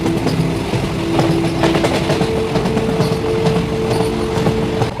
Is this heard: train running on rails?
yes